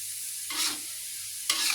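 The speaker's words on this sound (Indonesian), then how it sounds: "terus diaduk-aduk pakai minyak bekas goreng bawang, jadi wangi" Spoon stirring shallots frying in used oil, two distinct scraping strokes over a steady background sizzle, close and fairly loud with no voices.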